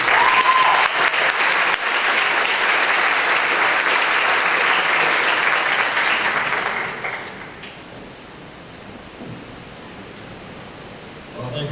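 Audience applause at a 2018 ISE graduation ceremony, a dense steady wash of many clapping hands for about seven seconds before fading to quiet room tone.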